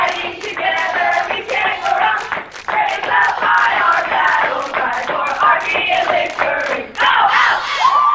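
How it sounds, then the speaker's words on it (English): High school football fans at a play-in round game stand and sing their fight song, clapping along in a steady rhythm. Loud, crowded group singing is punctuated by regular sharp claps. "we got fans singing the fight song. They're on their feet. They're clapping."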